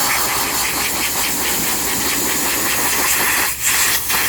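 Compressed air blasts dust out of a radiator filter with a loud, continuous hiss over a running engine's drone, dipping briefly twice near the end.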